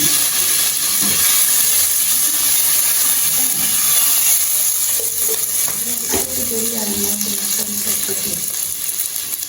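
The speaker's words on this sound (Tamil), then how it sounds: "உள்ளி உள்ளியும் பொரியணும் அப்பதான் தான் டேஸ்ட்டாக இருக்கும்" Loud sizzling and hissing of garlic frying in a hot pan, with occasional stirring scrapes, continuing steadily throughout.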